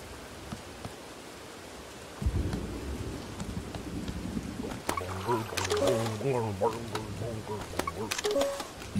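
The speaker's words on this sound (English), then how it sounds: "I don't know if I can turn off the rain." Steady rain with low rumbling thunder in the Bugsnax video game, a continuous wash that starts partway in, with game effects and faint musical tones layered over it.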